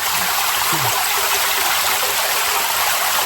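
Water rushes steadily through a big flooded trench dug in waterlogged ground, with the pressure building. It is a loud, continuous, close gushing sound with no one talking.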